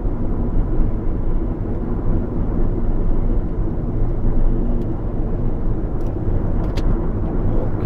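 Inside a moving Nissan Maxima, a constant broadband roar of engine and road noise carries on without a break, with no voices heard.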